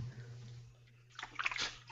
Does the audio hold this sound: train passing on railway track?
no